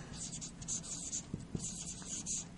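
Handwriting on paper while writing out script radicals, a soft continuous scratching with a few light taps, faint and close, with no one speaking.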